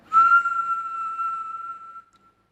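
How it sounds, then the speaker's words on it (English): A person whistles one sustained, clear note through the mouth for about two seconds, close and fairly loud, with no talking. "you can also use your mouth to whistle, like I was doing"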